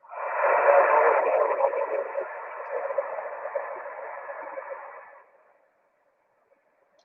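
A very weak ham radio transmission on a 146.415 MHz FM channel, a band-limited, hissy, barely intelligible voice fading out after about five seconds, then a brief squelch burst at the end.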